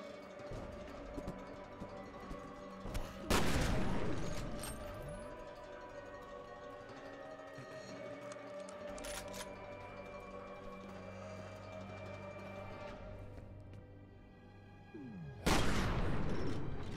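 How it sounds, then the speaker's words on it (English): Gunfire in the video game F.E.A.R. Extraction Point: two loud bursts of automatic fire, one early and one near the end, over a low droning game ambience with faint mechanical clanks between. "Excuse me while I freak out and shoot at all the air around me"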